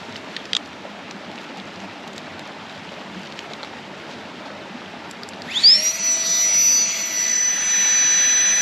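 Flextail Gear electric air pump inflating a Therm-a-Rest NeoAir XLite sleeping mat at a wild camp, starting abruptly partway through as a loud, steady, high-pitched whine and rush of air that holds constant to the end over faint outdoor background.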